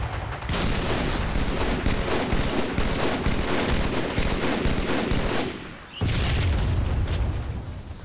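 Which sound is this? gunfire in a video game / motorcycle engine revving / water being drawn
gunfire in a video game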